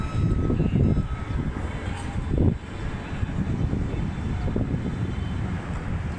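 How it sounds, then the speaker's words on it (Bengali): A train passes beside a port, a steady broad rumble close by with wind buffeting the microphone and a brief louder surge midway. "ট্রেন চলে যাইতেছে।"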